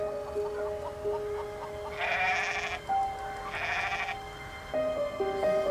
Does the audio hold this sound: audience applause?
no